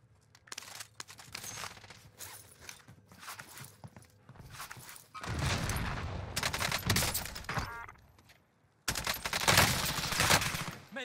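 Gunfire bursts in the Warzone video game during a Rebirth match: scattered shots and rattling volleys that come in loud clusters separated by short near-silent gaps.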